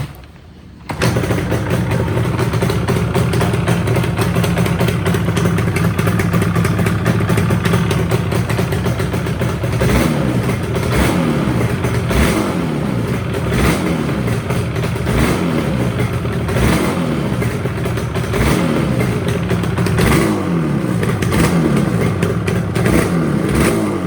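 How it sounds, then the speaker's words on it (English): A Yamaha RD350LC two-stroke motorcycle, running a bit rich, starts up and settles into a loud, close idle, then revs repeatedly in rising and falling bursts with a crackling two-stroke buzz. "let's listen to that beautiful two-stroke sound"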